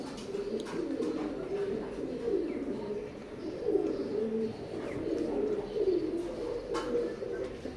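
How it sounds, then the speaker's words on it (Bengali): A pair of golden teddy pigeons coo softly and continuously in low, rolling phrases, close by and at a gentle level with no talking over them. "স্ক্রিনে এখন যে কবুতর জোড়া দেখতে পাচ্ছেন গোল্ডেনের মধ্যে এক জোড়া কবুতর"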